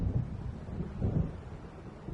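Low rumbling thunder from an approaching storm in Alan Wake, a deep swelling roll with two soft peaks, distant and muted, no voices.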